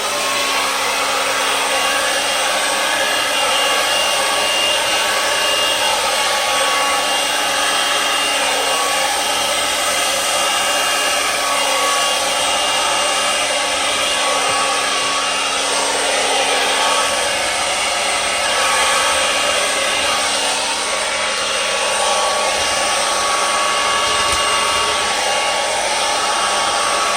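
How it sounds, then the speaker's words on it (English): A blow dryer runs continuously at close range during a Dutch pour paint session, a loud steady whooshing whine with no pauses and no talking. "Let's take the blow dryer again and see if we can't run it"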